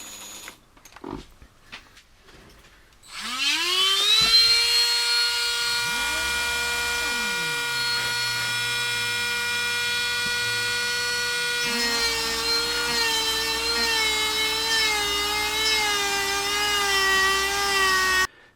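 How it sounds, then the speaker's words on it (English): A lathe spins up after a few knocks and runs with a steady high whine; sanding against a turning water buffalo horn ear plug shifts the pitch and adds a gritty rasp. "I'm going to start sanding it down here in the middle"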